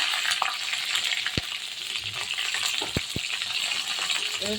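Diced cauliflower fries in a hot pan for a curry with potatoes and katla fish, giving a steady, close sizzle with a few sharp utensil clinks and scrapes as it is stirred.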